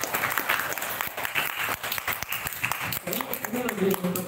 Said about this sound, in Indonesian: Kita beri tepuk tangan sekali lagi kepada Muhammad.